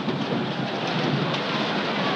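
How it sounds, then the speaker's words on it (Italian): Heavy rain and rolling thunder during a thunderstorm at a 1977 Serie A football match in Perugia, a dense, continuous hiss with a low rumble, loud and steady with no voices. "tuona, tuoni e fulmini qui al pian di Massiano."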